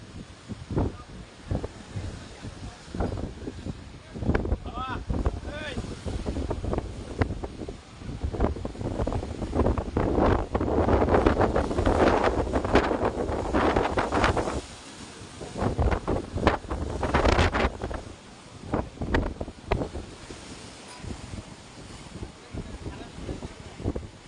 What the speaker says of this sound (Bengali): সাইক্লোন রিমেলের তাণ্ডবে মেঘনা উত্তাল ভয়াবহ রূপ ধারণ করেছে